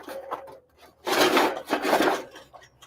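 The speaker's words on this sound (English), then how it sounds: "Now I'm going to put my grill grates on" Metal grill grates set down onto a grill before cooking Denver steaks, heard as a couple of close, loud scraping and rattling placements with clattering contact, preceded by softer handling noises.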